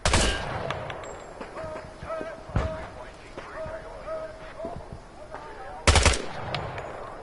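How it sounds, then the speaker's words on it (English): Gunfire from a Vietnam War video game while shooting targets, several sharp loud shots at irregular intervals with a tonal game sound between them. "Shoot the targets ahead, aiming for the helmet to guarantee an instant kill."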